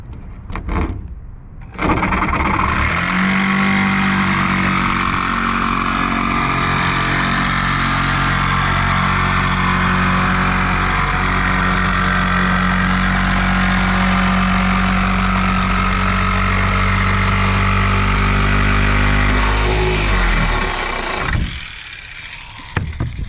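A jigsaw cuts a hole in the roof of a Mercedes Sprinter van for a MaxxFan Deluxe. It gives a steady, loud motor buzz that holds for almost twenty seconds, then stops.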